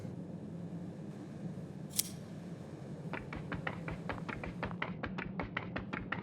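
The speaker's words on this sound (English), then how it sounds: "Armed with his scissors and guided by his kind heart, Prieto decided to cut the strings that held the clown captive." Scissors snip through puppet strings in the Onirike video game, a rapid run of about a dozen crisp, close metallic clips following a single sharp click, alone over a quiet ambient bed.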